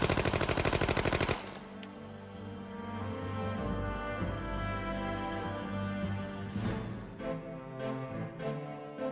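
A rapid burst of military machine gun fire rattles out loud and close for over a second, then gives way to a lower rumbling background with scattered bangs.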